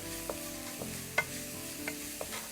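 Peas stirred into a pan during mixing: a low, steady sizzle with occasional soft scrapes and taps of the spoon against the pan, faint and close, with no voices.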